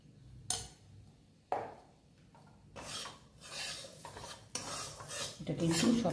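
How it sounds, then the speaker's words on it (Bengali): Spices stirred in a pan with fennel and turmeric for stuffed pointed gourd, a utensil scraping the pan bottom in quiet, irregular strokes. "এটা কিন্তু সবসময় নাড়তে হবে, তা নাহলে কিন্তু তলাতে ধরে যাবে"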